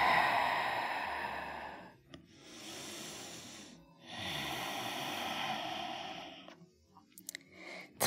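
Slow, deep breaths taken while a yoga pose is held, each long airy inhale and exhale drawn close to the microphone and separated by short pauses, with no talking.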